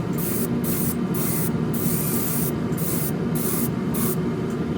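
A spray can hisses as a second, heavier coat of paint goes onto a Revell 1968 Pontiac Firebird 400 model kit. The bursts are close and loud, about eight in a row, with short gaps between them.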